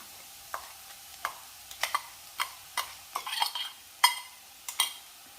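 A spoon repeatedly scraping and tapping through carrot and bean thoran as ground coconut paste is mixed in, a dozen sharp close clinks against the pan over a light sizzle, with no voices.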